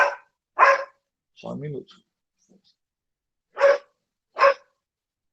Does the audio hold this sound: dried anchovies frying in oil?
no